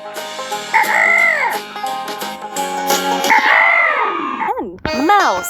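Cartoon rooster crowing in a kids' farm-animal stacking game: two long, loud cock-a-doodle-doo calls followed by quick clucks, all over bouncy background music.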